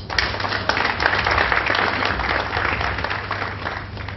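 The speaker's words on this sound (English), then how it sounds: "I thought we'll give him a round of applause for that." A room audience gives a round of applause at a book review event, steady dense clapping holding at an even level for a few seconds with a low background hum underneath.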